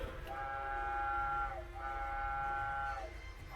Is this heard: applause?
no